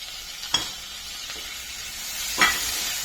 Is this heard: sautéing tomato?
yes